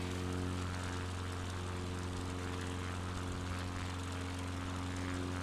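Steady propeller plane engine droning loudly and continuously in flight over mountains in a flight simulator game, an unbroken hum with strong low tones and no voices.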